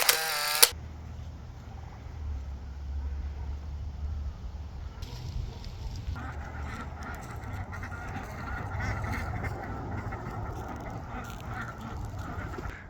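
Farmyard birds, a turkey and ducks wandering over wood chips, give low continuous gobbling and quacking murmurs throughout, with a brief sharp call right at the start and a busier layer of chatter joining in the second half.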